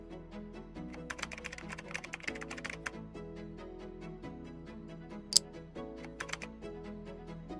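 Steady typing on a computer keyboard while card payment details are entered, rapid irregular key clicks running throughout at close range with quiet background music.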